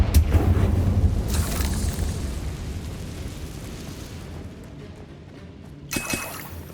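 Booming fire-spell explosion of Confringo in Hogwarts Legacy, a heavy low rumble at the start that decays slowly, with a later bright burst and crackle toward the end.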